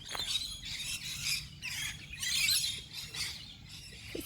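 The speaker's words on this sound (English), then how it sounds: "There's a whole family of birds digging worms." Small birds chirp outdoors while a family of them forages for worms on the ground, giving quick, bright, repeated tweets that come and go in a fairly close, lively chorus over faint background noise.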